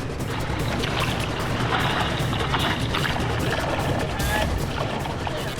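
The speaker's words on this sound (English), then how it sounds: "There's a few waves rolling in now." Ocean waves rolling in at Bondi Beach make a steady, loud broadband wash of surf that roars continuously throughout with no pauses.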